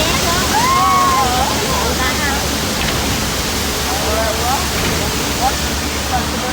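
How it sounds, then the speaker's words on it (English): A broken water main effect on a Universal Studios ride gushes in a constant loud roaring wash, with faint whistling tones and voices in the background. "The water main just broke."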